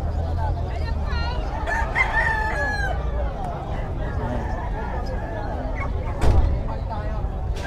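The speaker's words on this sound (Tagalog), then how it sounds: "gandang manok idol" A rooster crows loudly and nearby at a pet and poultry market in Bocaue, Philippines, one long rising crow amid background chatter, clucking and someone talking.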